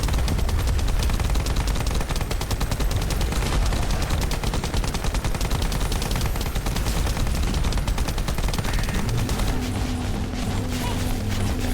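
Continuous dense weapon fire while shooting enemies at close range in the sci-fi shooter The First Descendant, loud and unbroken with metallic mechanical clatter layered throughout.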